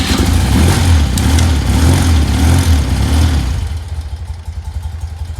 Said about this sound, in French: maintenant la moto est froide. On va la démarrer.